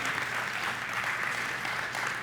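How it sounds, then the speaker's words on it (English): Audience at a public hearing in Chicago giving a round of applause, a continuous dense, loud clapping with no speech over it. "Give yourselves a round of applause right now."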